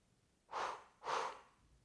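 Two slow, audible inhales through the nose during a pregnancy breathing exercise, each lasting about half a second and separated by a short pause, close and quiet in an otherwise still room.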